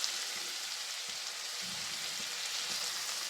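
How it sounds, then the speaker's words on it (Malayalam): Beetroot fries in hot oil with a steady, close hiss of sizzling that holds evenly throughout, with soft faint bubbling underneath and no voices. "എന്നിട്ട് നല്ലോണം ഒന്ന് എണ്ണയിൽ ചൂടാക്കി എടുക്കുക. ബീട്രൂട്ട് ഇടുക കേട്ടോ."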